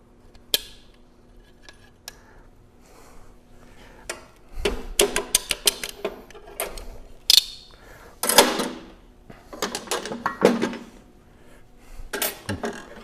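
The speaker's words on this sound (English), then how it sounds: "We're going to take this snap ring out." Snap ring being pried out of a Vilter VSS compressor shaft seal, giving sharp metallic clicks, taps and small clanks in irregular bursts at close range, with quieter gaps between them.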